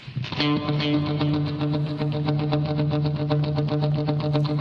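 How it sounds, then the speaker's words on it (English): Electric guitar played through a Line 6 POD 2.0 with a loud delay and a huge reverb, a steady ringing chord with repeating echoes that keep pulsing evenly, sustained and loud throughout. "It's quite a loud delay. And again, a big, huge reverb."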